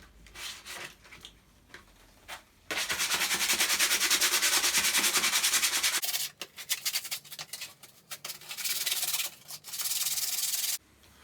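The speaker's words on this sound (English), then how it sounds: "I think as well I'm just going to give it a little finish with some sandpaper." Sandpaper rubs over a wooden carpenter's mallet in long, steady scraping strokes, with one sustained burst of sanding, a pause of lighter handling noises, then a shorter final stretch of close, loud rasping.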